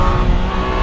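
A Triumph Tiger 1200 Alpine motorcycle engine at high revs, a loud, close, steady roar in a brief burst while riding.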